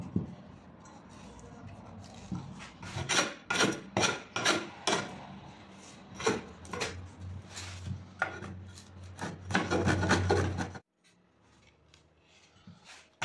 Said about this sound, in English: So I'm using a wood rasp to even them out, and then I'll clean things up with some sanding.